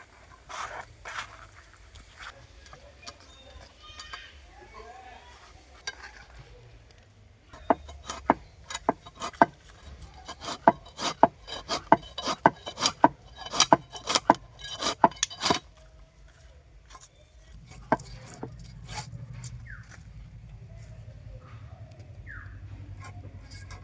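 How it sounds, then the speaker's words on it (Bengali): A knife chops through a scaleless frozen fish in a run of sharp, rapid cuts against a board, with quieter scraping and handling before and a low rumble after. "মাছটা আমি এবার কেটে নেব। এই মাছের আঁশ নেই, একে এমনি আমি কেটে নিয়ে ধুবো।"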